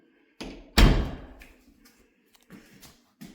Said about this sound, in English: we shut the bedroom door